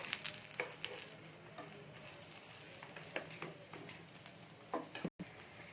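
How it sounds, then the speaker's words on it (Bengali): Flour-based snack pieces deep-frying in oil, a soft continuous bubbling sizzle broken by occasional light taps and stirring clinks, fairly quiet and close, with no talk. "বাদ বাকি যতগুলো আমি বানিয়েছি সবগুলো আমি এরকম করে ভেজে নিচ্ছি"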